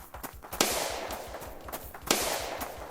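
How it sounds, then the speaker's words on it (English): In a drama scene, gunfire rings out at people fleeing on foot: two sharp, moderately loud cracks about a second and a half apart over a background of hurried footsteps and movement. "they're shooting at us!"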